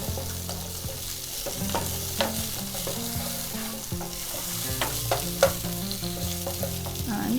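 Capsicum pieces fry in a pan already used for pizza vegetables, giving a continuous close sizzle with scraping stirs and occasional sharp ticks of a utensil against the pan, no voices.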